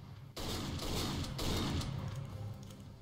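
Gunfire in the video game STALKER: Call of Pripyat, a sudden loud close burst of shots that rings out and slowly decays over a few seconds, with no talk.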